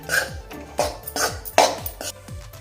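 Wheat flour roasting in ghee in a pan for fenugreek laddoos, stirred with a metal spoon: a steady run of close scraping strokes, each ending in a light clink against the pan, repeating about twice a second with no speech.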